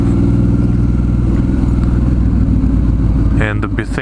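A motorcycle rides through San Francisco city traffic over bumpy, construction-torn streets, its engine a loud, constant close drone with road noise and a shift in pitch near the end.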